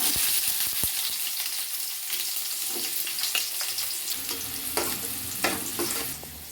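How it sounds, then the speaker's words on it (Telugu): Thinly sliced onions hiss and sizzle in hot oil in a pan for a korameenu fish curry, a steady close frying noise with a few clinks and stirring scrapes and no talking. "సన్నగా తరిగి పెట్టుకున్న ఎర్రగడ్డ పులుకులు అయితే వేసుకుంటున్నాం"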